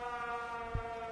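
A steady siren wail from the game Everybody's Gone To The Rapture, holding even harmonic tones at moderate level, with a brief low thump partway through and no voices.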